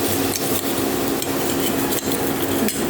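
A cashew paste mixture thinned with water is stirred in a bowl with steady, continuous scraping and swishing and a few faint clinks, with no talking.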